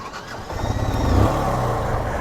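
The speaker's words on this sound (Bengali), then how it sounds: "এই দেখেন স্টার্টের সাউন্ডটা শুনেন এই বাইকের" A Suzuki Gixxer motorcycle engine cranks and catches, then settles into a steady low idle rumble, close by with no talking.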